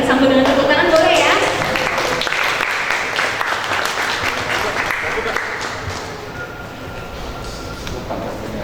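Audience applause at a talk welcoming speakers to the stage, a loud sustained burst of clapping that swells early and slowly tapers off, with a voice over it at the start.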